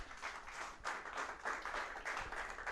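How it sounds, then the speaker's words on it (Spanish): Congregation applause during a church sermon, a full, rolling wave of clapping from many people with pulsing surges, fairly distant and steady across the moment. "Den un aplauso al Señor, mi hermano."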